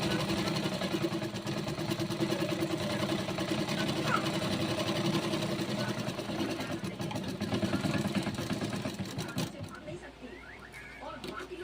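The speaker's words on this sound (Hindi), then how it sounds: "चलिए हम आपको एक बार सिलाई करके भी दिखा देते हैं।" A domestic sewing machine stitches through fabric, a steady rapid mechanical whirring running continuously and fairly loud before easing off near the end, with faint speech in the background.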